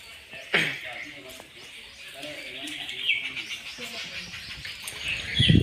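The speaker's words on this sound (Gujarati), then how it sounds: "અહીંયા કબૂતરો, ચકલીઓ, ખિસકોલીઓ" Pigeons and sparrows calling around fields beside a temple in Khambhat, scattered chirps and soft coos over a hushed outdoor background, with a sharper call or flutter early on and rising noise at the end.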